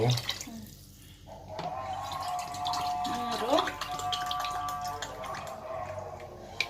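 Water poured from a glass into a pot of rice for mushroom biryani, a steady splashing pour heard close by with a voice talking over it.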